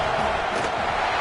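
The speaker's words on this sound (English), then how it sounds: "This crowd trying to do its part to get inside the kicker's head." A stadium crowd in College Football 26 roars in a sustained, dense wash of noise as a long field goal attempt is lined up, loud and steady without a break.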